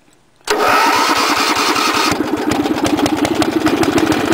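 A Wheel Horse A 800 Ranger tractor engine starting without choke on a mild morning: after a brief quiet, it cranks and catches at once, then settles into a loud, rapid, steady idle close by.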